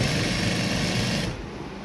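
A sewing machine runs a straight stitch along a fabric border strip with a fast, even mechanical whir that stops sharply just past the midpoint, leaving a quieter hum.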